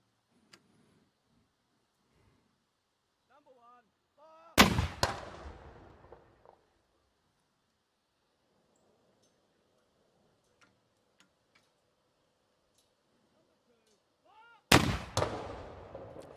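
Two loud, sharp cannon blasts from a naval gun salute, each booming report followed by a long decaying rumble, separated by about ten seconds of quiet with faint distant voices and small ticks between them.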